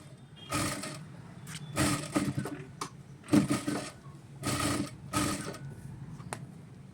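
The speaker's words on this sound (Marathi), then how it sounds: "आता मी दाब टिप घालून घेत आहे" Sewing machine stitching a handmade doormat, running in several short bursts of fast mechanical whirring and clatter with brief pauses between them, close and fairly loud.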